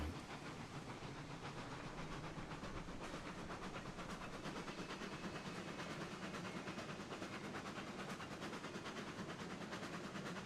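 Steady rumble of a Shay geared steam locomotive backing up in the Railroads Online game, with continuous hiss and rail clatter, dense and unbroken throughout.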